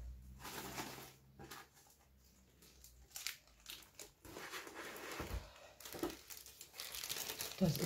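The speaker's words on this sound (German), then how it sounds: "Ich lege das Beutelchen von Nummer 3 mit rein" A small plastic bag crinkles and rustles in close, irregular bursts while diamond painting pieces are packed into a larger bag, fairly quiet and with no talking.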